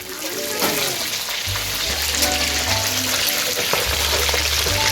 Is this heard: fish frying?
yes